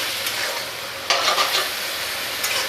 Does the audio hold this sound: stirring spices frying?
yes